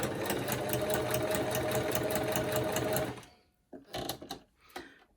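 A sewing machine stitches acetate in a steady, loud rapid whir for about three seconds, then stops and gives a few short bursts of stitching.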